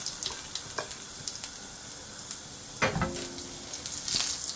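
Finely chopped garlic sizzles and fries in coconut oil with base gravy for a British Indian restaurant-style prawn Madras, a steady close crackle with brief louder spits and stirring scrapes.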